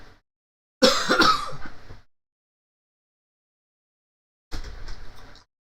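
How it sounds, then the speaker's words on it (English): Two bouts of coughing in a quiet room: a longer, harsh burst of several coughs, then after a pause a shorter, weaker cough. "It's just that I have that lingering cough now"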